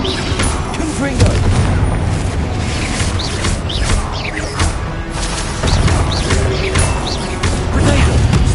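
Confringo spell from Hogwarts Legacy bursting in a game battle, with repeated booming blasts and crashing impacts over a busy, noisy fight mix.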